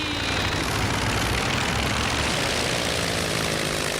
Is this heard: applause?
no